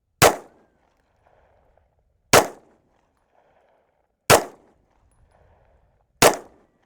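A pistol fires 115-grain ammunition in four sharp, loud single shots spaced about two seconds apart. Each shot decays quickly into quiet, with no talking between them.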